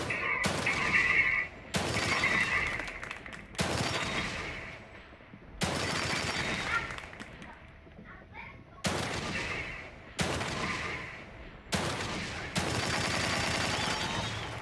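Repeated gunshots at a shooting range in The Evil Within 2, roughly eight sharp loud bursts spaced every one to two seconds with decaying tails, and some quieter game sounds between them.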